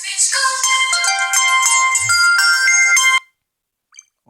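A mobile phone ringtone plays loud and close as a bright, repeating electronic melody for about three seconds, then cuts off abruptly into near silence with a faint blip afterward.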